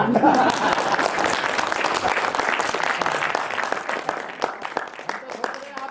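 Audience clapping at a Hindi kavi sammelan comedy poetry event in Ghaziabad, a dense steady spread of many hands lasting several seconds, with voices mixed through the crowd.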